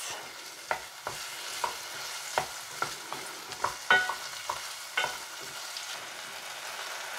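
Steady sizzling of apple frying and caramelizing in a pan, with periodic scrapes and clicks of stirring cutting through the constant hiss.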